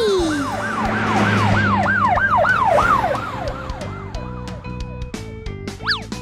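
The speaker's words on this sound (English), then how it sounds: "It's a police car!" A cartoon police siren wails in repeated rising and falling sweeps, loud and close, then gives way to bright, playful synth tones.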